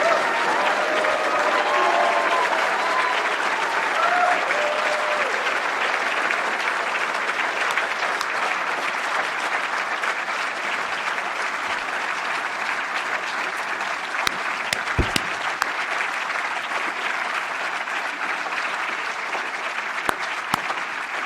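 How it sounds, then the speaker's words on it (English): A ceremony audience for new academy members gives a long, steady round of dense applause that carries on evenly before gradually thinning toward the end. "I want to ask now a round of applause for all new members."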